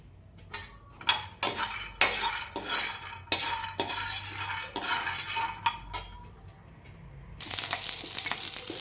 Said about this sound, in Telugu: ముందుగా అయితే బాండ్లు పెట్టుకొని అందులో పల్లీలు వేయించుకోవాలండి.